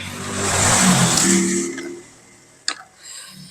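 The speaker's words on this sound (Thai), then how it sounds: "ขออภัยเสียงรถแรงด้วยค่ะพี่น้องคะ" A loud car roars past a roadside spot where spicy pounded khanom jeen salad with fresh shrimp is being made, the engine swelling for about two seconds before fading away, followed by a sharp click.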